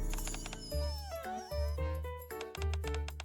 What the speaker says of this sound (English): the dogs